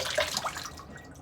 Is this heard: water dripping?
yes